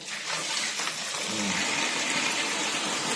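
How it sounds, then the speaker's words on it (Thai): Water runs weakly from a shower head during a check on a faulty water heater, a steady close hiss and splash lasting a few seconds, no voices. "แต่เวลาเราเปิดนะครับ น้ำที่ออกฝักบัวเราน้อยนะครับ"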